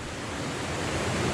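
Rushing water of the River Wharfe at the Strid, a steady broadband roar with no breaks, close and fairly loud, with no voices.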